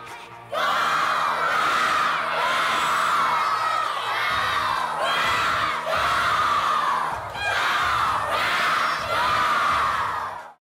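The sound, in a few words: crowd cheering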